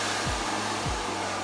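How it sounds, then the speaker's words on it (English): A hair dryer blows continuously at close range as a loud, even rushing whoosh with a low motor hum, briefly dipping twice as the airflow shifts. "So you guys just use whichever blow dryer suits you and which one is best for you."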